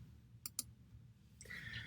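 Computer mouse clicking: two quick sharp clicks close together, then a softer rustle of handling, all faint and close with no talk.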